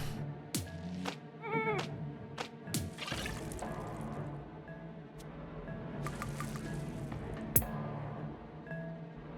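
Sheep bleat several times in the video game Phobies, with wavering cries mixed among squishy, dripping game effects and clicks over a steady background of game sound.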